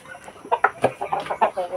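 Free-range farm chickens cluck in a short run of rhythmic, mid-pitched calls, fairly close and moderately loud, with no talk over them.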